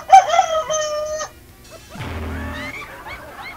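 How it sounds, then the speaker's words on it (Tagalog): A rooster crows once loudly and up close, followed by lower clucking and squawking calls from fowl. "May manok ka dyan? May manok ka?"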